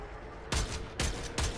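Gunfire in the video game Warframe: three sharp, loud shots in quick succession over a steady hum.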